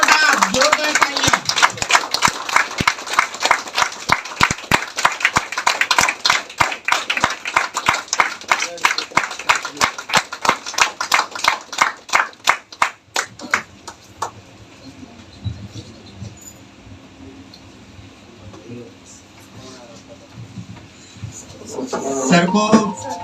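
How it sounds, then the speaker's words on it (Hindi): Loud, rhythmic clapping from an audience at a motivational success seminar, strong steady beats that thin out and stop midway, followed by quieter room noise and a voice at the end. "जोरदार तालियां।"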